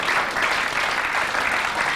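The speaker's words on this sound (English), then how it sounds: "the crowd applauding that effort from Jason Twist" Spectators at a 1998 WEPF men's quarter-final pool match applaud a shot from Jason Twist, a dense, steady wave of clapping that fills the room for two seconds.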